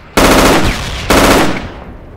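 Two loud, close bursts of rapid gunfire in the military game Project Reality, each sustained roughly a second with a ringing tail, no speech over it.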